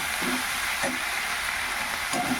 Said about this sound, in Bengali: দিয়ে এবার ভালো করে নাড়াচাড়া দিয়ে নেব, মিশিয়ে নেব